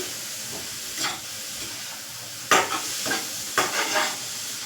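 Salted cabbage cooks in a pan as momo filling, with a soft continuous sizzle and hiss and several sharp scraping stirs, the louder ones in the second half.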